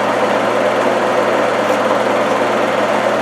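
An Ajax milling machine runs steadily, a loud, close, continuous motor and gear hum with a constant whirring texture and no pauses.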